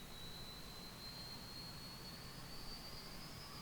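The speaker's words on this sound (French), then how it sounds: "Voilà, les pales vont commencer à tourner." A Bell UH-1 Huey helicopter engine in X-Plane 11 spools up as the rotor blades begin turning, a faint steady turbine hiss with a thin whine rising gradually, and no talking.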